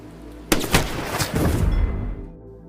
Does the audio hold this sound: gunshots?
yes